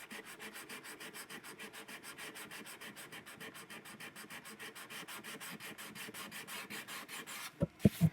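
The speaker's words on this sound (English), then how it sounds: "A little bit of scraping and some sanding sure is looking good." Rhythmic back-and-forth rasp of sandpaper rubbing by hand on a wooden archtop guitar, steady strokes close up, ending with a few knocks.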